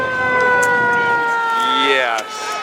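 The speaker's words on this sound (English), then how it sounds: "There's the police car where everyone's going to go." A police car's siren wails at a Christmas parade, a loud sweeping tone with steady harmonics that rises and falls, near and continuous, with crowd noise underneath.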